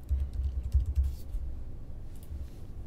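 A search is typed on a computer keyboard with quick, close clicks of keys in an irregular run, then a quieter stretch with a few light taps.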